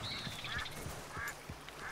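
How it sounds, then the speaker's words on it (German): Ducks quack repeatedly in Red Dead Redemption 2, several short nasal calls spread over the clip against a steady outdoor ambience, fairly close and moderately loud. "Guck mal, Enten gibt's hier auch."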